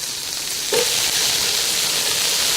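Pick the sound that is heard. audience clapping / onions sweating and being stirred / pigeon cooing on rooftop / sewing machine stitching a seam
onions sweating and being stirred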